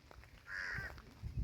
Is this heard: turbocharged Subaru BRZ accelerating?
no